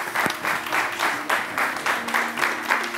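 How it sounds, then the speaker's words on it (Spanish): An audience applauds to welcome guests at an event, a steady wash of clapping that swells and ebbs in waves for a few seconds, with little else over it. "Un aplauso muy grande para Marisa Paredes y Sergio Zorrilla."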